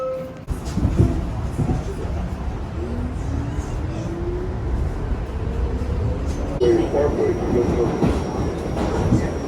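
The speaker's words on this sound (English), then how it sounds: "We're on the subway now." A subway train rolls along with a steady low rumble and rattle, its pitch rising and falling through the ride, and voices murmur faintly now and then.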